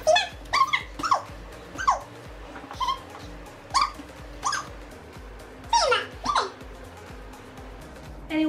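A sleepy dog whimpers and yips in short, high, whining bursts, about a dozen of them spaced irregularly, close by with quiet pauses in between.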